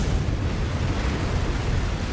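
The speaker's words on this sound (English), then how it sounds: "See how many rockets we can throw into a side of a mountain there." Rockets slamming into a mountainside in the MechWarrior 5 video game, a dense continuous roar of overlapping explosions and rumbling blasts, loud and unbroken with no talk.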